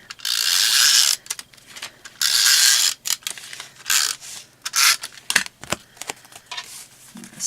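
A paper trimmer slices card in several quick scraping strokes, bursts of rasping cutting with short pauses and small clicks between, close and fairly loud.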